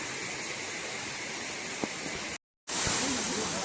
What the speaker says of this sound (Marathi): हा इकडचा वॉटरफॉल आहे